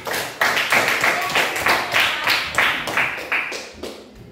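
Schoolchildren in an Indonesian primary school classroom clap together in a brisk, rhythmic burst of repeated claps, loud and close, lasting several seconds before trailing off.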